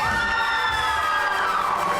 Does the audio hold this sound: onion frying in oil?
no